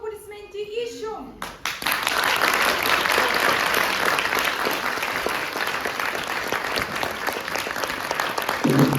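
Loud, dense audience applause with cheering fills a show hall after a brief spoken opening, sustained steadily to the end.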